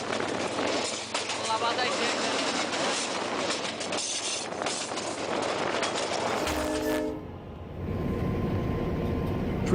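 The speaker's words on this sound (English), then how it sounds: "A donkey standing on the railway tracks was hit by an oncoming high-speed train." A high-speed train barrels along railway tracks in a loud, continuous rushing roar, with brief tonal horn-like notes partway through before the rumble carries on.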